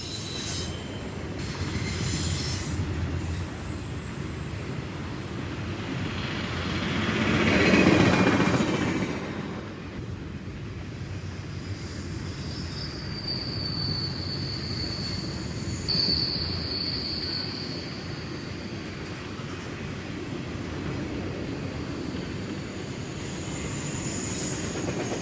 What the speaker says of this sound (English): a westbound will head past on the other track